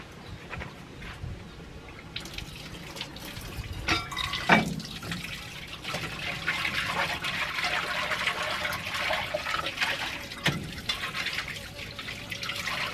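Water runs steadily at an outdoor fire site, a continuous trickling wash with a few knocks and clatters, and brief talk early on.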